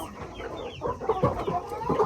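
Meat chickens, a batch of young white birds, clucking and chirping in short overlapping calls close by, fairly soft.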